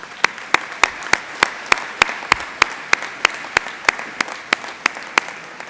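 Audience at a school leaving-class award ceremony clapping in sparse, evenly spaced individual claps, roughly three per second, sounding like a few people rather than a full hall, steady and moderately loud.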